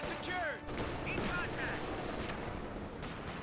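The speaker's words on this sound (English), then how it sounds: "Volley fire activated, but the Grenadiers should be able to win out this fight" Grenadier infantry volley fire in the World War II strategy game Company of Heroes 2, a dense rattle of overlapping rifle and gun shots with whistling effects, steady and fairly loud throughout.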